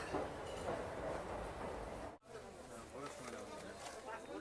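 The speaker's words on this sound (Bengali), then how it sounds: "আমাদের ট্রেনটা ছেড়ে দিল শিয়ালদা স্টেশনের 12 নম্বর প্ল্যাটফর্ম থেকে" Teesta Torsa Express with ICF coaches pulling out of platform 12 at Sealdah station, a continuous rumbling train noise with faint rail clatter and background chatter, cut by a brief dropout midway.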